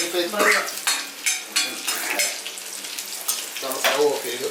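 Curry leaves and spices tempering for a jackfruit curry crackle and sizzle in hot oil, a busy steady frying hiss with stirring scrapes throughout, close and fairly loud.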